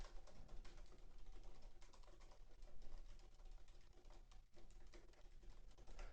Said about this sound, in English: Let's get a keyboard, and we'll test a keyboard.